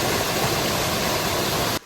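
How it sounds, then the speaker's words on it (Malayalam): Waterfall in the Koonichi hills, a dense, steady roar of falling water filling the whole clip at close range, then cutting off abruptly at the end. "വെള്ളച്ചാട്ടം"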